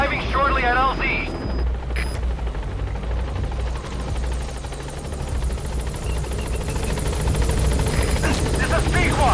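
The B-Quad support helicopter in Metal Gear Solid 5 approaches a landing zone with a loud, steady rotor thump and turbine whine, joined by a brief radio voice and short bursts of gunfire near the start.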